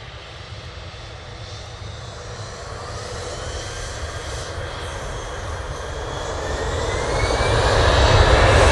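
Finnair jet taking off at Manchester Airport, a steady broad engine roar that builds louder over several seconds as it passes at a distance, no talk.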